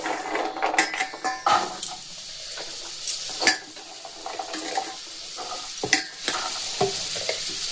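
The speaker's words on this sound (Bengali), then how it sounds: "একদম সেমভাবে আমি গাজরগুলোকেও ভেজে নেব" Carrot pieces dusted with a spoonful of cornflour fry in a pan with a steady loud sizzle, while frequent scraping stirs and clinks of a spatula against the metal break through it.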